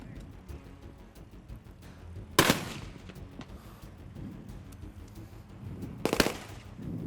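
Two sharp broadband blasts of blank gunfire at a Gulf War tank battle re-enactment of the 1991 Operation Granby fighting, spaced about four seconds apart over a low rumbling outdoor background.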